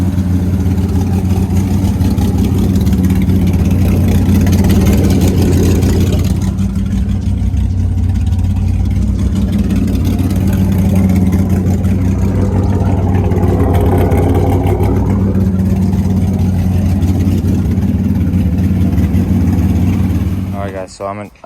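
A modified Nissan S15 car engine fires up and runs, a steady loud idle with a deep rumble that dips and surges slightly, close by, with a person talking over it.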